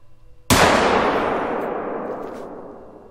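A single loud rifle shot fired at a moose in the hunting game theHunter: Call of the Wild, set in the Yukon Valley, bursts out sharply and then rings off in a long, slowly fading echo.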